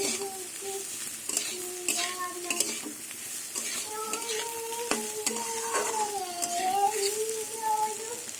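Beetroot, carrot and peas sizzle in a pan while a spoon stirs and clinks now and then, and a faint voice talks in the background.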